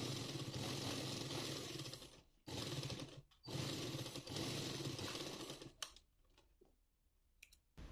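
A sewing machine stitches a saree blouse in three loud, close, buzzing runs, the middle one short, each separated by a brief pause. Quieter clicks of the fabric being handled follow at the end.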